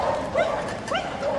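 A dog gives a couple of short yips and barks, fairly faint and distant, while a handler urges it on during a Crufts championship agility run in a large arena.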